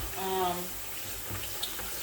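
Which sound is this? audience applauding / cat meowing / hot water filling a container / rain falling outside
hot water filling a container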